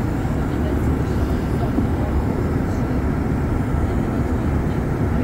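Steady airplane cabin roar during a flight from Dublin via Copenhagen to Bergen, a dense, continuous low rumble filling the space evenly throughout.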